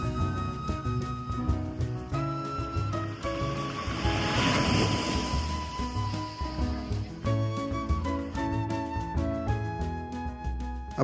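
Ocean waves break and wash steadily onto Coroa Vermelha beach in Bahia, a continuous surf roar that swells midway, with wind buffeting the microphone.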